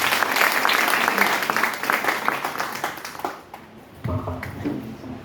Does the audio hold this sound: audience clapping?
yes